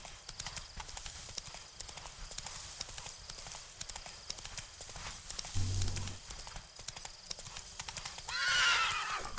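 Roach, a horse in The Witcher 3, gallops with steady rapid clip-clop hoofbeats that carry through the whole stretch, and a short whinny rises near the end.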